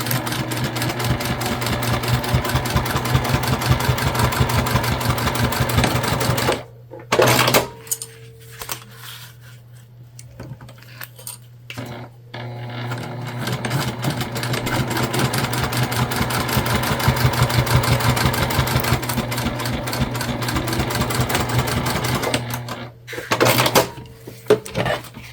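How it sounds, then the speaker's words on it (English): Juki sewing machine stitching down both sides of a structured bag, a fast steady needle chatter running for long stretches with a brief pause and restart midway. "now we're just going to go ahead and sew down both sides"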